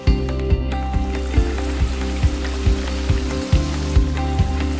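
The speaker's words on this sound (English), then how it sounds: "Heat up the oil to 185 degrees, add in 3 prawns at a time and fry for about 2 minutes." Prawns deep fry in groundnut oil at a steady, dense sizzle with faint pops and crackles, close and continuous, no talking.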